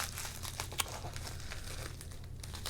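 Plastic wrapping around SpongeBob trading cards crinkles steadily and close up as the cards are unwrapped, with a sharp crackle near the start standing out from the continuous rustle.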